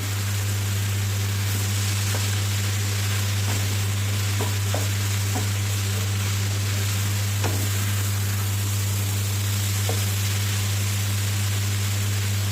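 Noodles tossed in a pan with fried chicken, prawns and vegetables give a steady close sizzle over a constant low hum, broken by scattered light clicks and scrapes of stirring.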